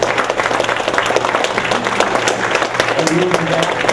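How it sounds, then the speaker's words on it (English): An audience at a local candidate forum applauds the candidates, a steady dense patter of clapping that runs through the whole stretch while voices carry on over it. "Let's have a round of applause for all the candidates coming out tonight."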